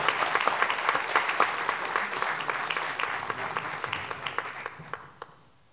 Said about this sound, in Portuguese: Salve de palmas, Nivaldo Brito